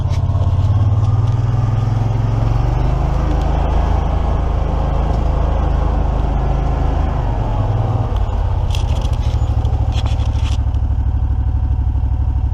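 An EZ-GO ST 4x4 utility vehicle in 2-wheel drive climbs a steep, dirty hill, its engine droning loud and steady close by, joined by some clatter and scraping near the end.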